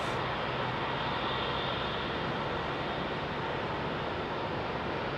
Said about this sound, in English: That is a Rolls-Royce Trent 800 on the American 777s.